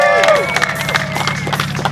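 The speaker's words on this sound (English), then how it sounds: "let's give a round of applause for all the drivers" A crowd at a drifting event cheers and claps for the drivers, with whoops and babble rising over a steady background hum, loud and close for a brief moment.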